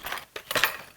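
Two brass 5-pin keys for a Kwikset SmartKey 980 deadbolt jangle together up close in a few quick metallic clinks, bright and brief, with no talking.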